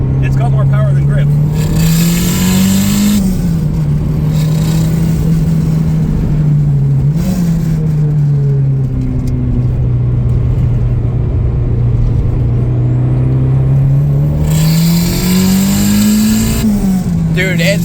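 A built Mazda Familia accelerates hard while racing, its engine droning loud and close as revs climb and shift repeatedly, with wind and road noise and people talking over it.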